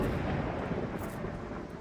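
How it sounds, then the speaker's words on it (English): A thunder sound effect rumbles in a single dense, broad roar that holds loud and steady for nearly two seconds, alone and without speech. "So if the thunder's too loud"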